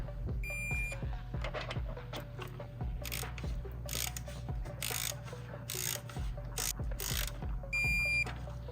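Ratchet wrench clicking in repeated rapid bursts while torquing rod bearing cap bolts on a BMW S85 V10 engine from an E60 M5, close and clear with faint beeps in the background.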